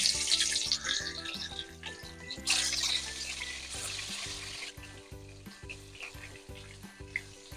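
Rohu fish frying in about two tablespoons of hot oil in a pan, a steady, fairly close crackling sizzle running throughout beneath a rhythmic low tonal backing.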